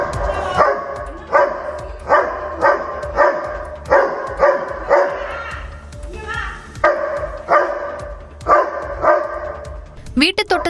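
A pet dog in a home garden barks at a snake, loud and close, with a steady run of sharp repeated barks, a brief pause filled with a higher whine, then more barking.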